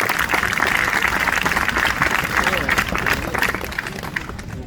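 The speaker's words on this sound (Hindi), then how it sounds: "और एक बार जोरदार तालियां मैडम की।" A crowd at a protest against gender discrimination in a nursing officer exam breaks into dense, continuous applause, loud and close, with voices under it, easing off toward the end.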